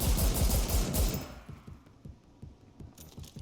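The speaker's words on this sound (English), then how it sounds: "A roundhouse kick or this, which is dual wielding handgun" Rapid handgun shots fired from two pistols at once in the game RE: Verse, a dense loud burst at first that thins into separate sharp pops, each shot close and distinct.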